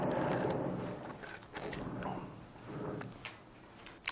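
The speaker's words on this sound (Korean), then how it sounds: "공사 중인가 봐요." Construction work nearby gives off irregular knocks, scrapes and mechanical rumbling, heard moderately close with uneven bursts and no clear rhythm.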